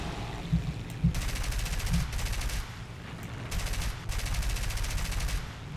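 Bursts of automatic gunfire striking the player's vehicle in the game War Thunder, several rapid crackling volleys over a low background rumble, fairly faint in the mix.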